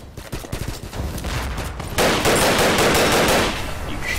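Rapid bursts of automatic gunfire in the Half-Life 2 mod Double Action: Boogaloo, loud and continuous, with the shooting intensifying midway through and carrying on alone.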